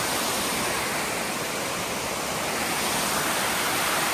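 Waterfall on Mt. Moosilauke pours steadily in a loud, continuous rushing roar with no break, close by and alone, with no voices.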